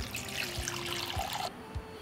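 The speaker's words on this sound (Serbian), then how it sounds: "Naliću s toplom vodom do visine poklopca." Warm water splashes and pours into a pot holding jars for about a second and a half, then stops, leaving a faint background hum.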